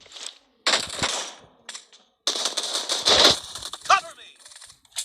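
Video game gunfire crackles in several short, sharp volleys and single shots separated by brief pauses, with voices talking over the action.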